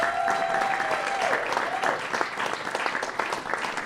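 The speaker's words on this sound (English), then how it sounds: "give them a big round of applause" An audience at a jazz celebration evening applauds steadily, with dense clapping and a few whoops or cheers rising through the first two seconds.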